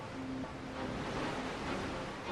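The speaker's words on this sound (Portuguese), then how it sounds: "A força da água é tão grande que faz o rio recuar, produzindo uma onda gigantesca" The Qiantang River tidal bore surges in from Hangzhou Bay as a steady, broad roar of rushing water mixed with wind, continuous and unbroken throughout.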